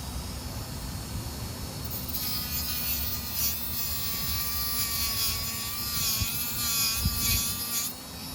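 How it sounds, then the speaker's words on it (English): A small Dremel rotary tool whines at high speed, cutting plastic tabs off a servo for an SCX24 Jeep, a close, steady buzzing that rises in pitch and wavers as it bites. "I'm going to Dremel off these tabs. Carefully."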